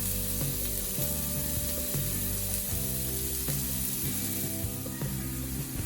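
Sliced mushrooms and onions sizzling in a frying pan with black pepper added, a loud, dense, continuous fry close up with occasional stirring knocks, no talk.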